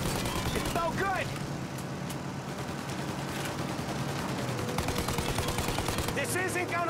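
Sustained automatic gunfire in Mafia Definitive Edition is aimed at a plane's engines, a dense continuous rattle mixed with engine roar and shouting voices.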